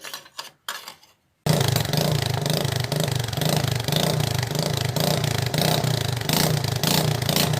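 A bike or scooter exhaust fitted with a dB killer runs steadily after a brief spoken word, a constant droning engine note with slight rises in revving, fairly loud and close.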